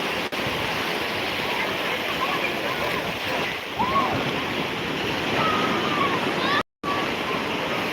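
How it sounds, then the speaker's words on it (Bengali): Sea waves roll in at New Digha beach as the tide comes in, a loud, continuous wash of surf close by, steady throughout with a brief dropout near the end. "এই মুহূর্তে জোয়ার ঢুকছে বন্ধুরা আর পূর্ণ জোয়ার রয়েছে বেলা দুটার সময়"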